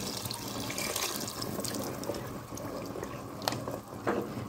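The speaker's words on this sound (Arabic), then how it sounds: "هنزل معايا بالشوربه عليها بالطريقه دي كده" Broth poured over kishk in a cooking pot, a steady liquid stream running and splashing for several seconds with a few brief clinks near the end, with no one talking.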